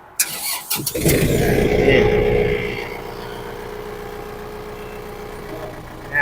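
A used Yanmar tractor, registered in 2023 with about 725 hours, cranks over and settles into a steady, smooth diesel idle, loud and close for several seconds with brief talk at the start.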